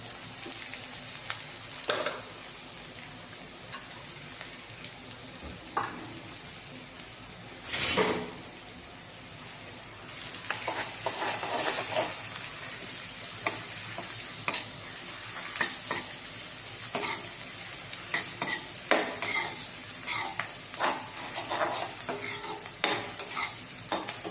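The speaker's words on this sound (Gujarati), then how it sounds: "મરચાં નાખીશું પછી એક ડુંગળી લીધેલી છે એને પણ તેલમાં નાખી દઈશું" Chillies and onion fry in hot oil for masala dosa with a soft, steady sizzle, broken by occasional stirring scrapes and clinks and one brief louder burst.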